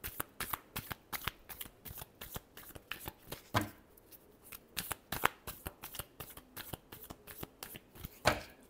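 Tarot cards are shuffled by hand in quick repeated riffles and slaps, a rhythmic run of crisp papery bursts with brief pauses, close and fairly quiet.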